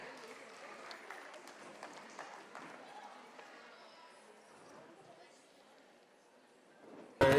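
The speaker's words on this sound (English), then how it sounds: "Please let's all welcome her with a huge round of applause" Audience applause in an auditorium at a dance institute's celebration before a Kathak performance: soft, dense clapping that spreads through the hall and fades gradually, heard at a distance and fairly faint.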